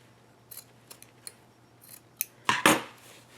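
Scissors snipping fabric while a zipper bag is trimmed before zigzag stitching: a few light, scattered snips, then two louder, close crunching cuts near the end, with no talk.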